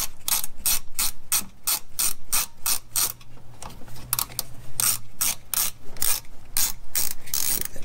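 Hand ratchet tightening a bolt on a transmission connector in a Dodge Dakota or Durango, a steady run of crisp close clicks with a brief slower stretch midway, no talking.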